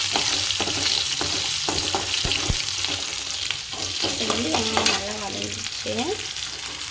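Beetroot poriyal frying in a pan with salt and chilli powder, stirred with a spatula: a steady close sizzle under repeated scraping strokes, a few sharper clinks of utensil on metal partway through.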